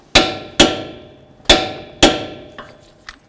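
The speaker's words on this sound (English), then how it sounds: "Torque this to 251 foot-pounds." Sharp metallic strikes on a front wheel hub nut of a 2005-2016 Ford Mustang during hub and bearing replacement: four loud, evenly spaced clanks with ringing decay, then two fainter taps, no talk.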